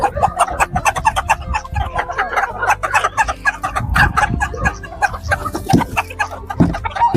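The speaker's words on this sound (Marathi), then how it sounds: "बघा एक पक्षी कशा प्रकारे तुटून पडतायत" Chickens cluck and squabble up close while feeding on black soldier fly (BSF) larvae on a farm, with a busy, continuous stream of overlapping clucks and pecking noises throughout.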